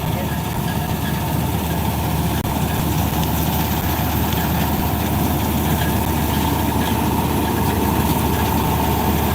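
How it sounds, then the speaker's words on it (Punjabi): The engine of a Hind 99 combine harvester cutting wheat drones steadily and loudly throughout, a constant low mechanical rumble with no pauses. "ਹਿੰਦ ਵਾਲਾਂ ਦੀ ਕੰਬਾਈਨ ਹੈ"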